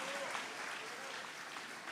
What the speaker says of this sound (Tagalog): Palakpakan po natin ang ating dakilang Diyos